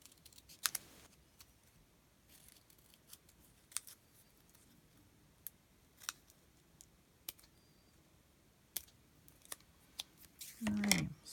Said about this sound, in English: The leaf's easy to cut out as well.